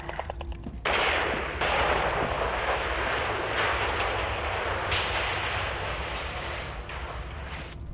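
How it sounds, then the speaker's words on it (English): In a war video game, an entrance is detonated. A sudden loud blast breaks into a sustained roaring rumble with crackling debris that fades slightly, and no one speaks. "They must have detonated the entrance themselves"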